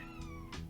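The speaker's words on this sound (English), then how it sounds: "You can hear my cat crying." A house cat meows indoors, two short rising cries in quick succession over a low background hum, fairly faint and alone.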